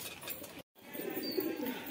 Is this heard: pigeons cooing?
yes